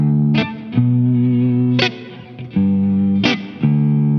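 Lap steel guitar in open D tuning playing major and minor chords, each sustained chord cut off cleanly by palm muting, with bright slide attacks at every change and a processed, slightly distorted tone, played alone.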